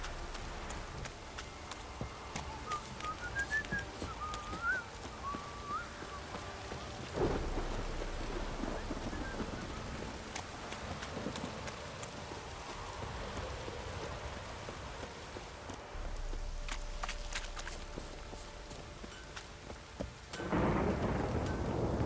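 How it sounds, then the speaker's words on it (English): A thunderstorm in The Witcher 3 video game brings steady, dense rainfall, with deep thunder rolling in a few times and swelling louder toward the end; no one speaks. "A storm, damn it."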